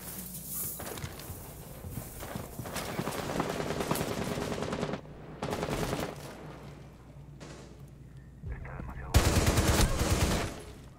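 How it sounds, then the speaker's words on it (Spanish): Gunfire in the video game Rainbow Six: bursts of rapid automatic fire in several long strings separated by short pauses, loud and close, with a louder burst near the end and faint footsteps between. "Disparo en la cabeza."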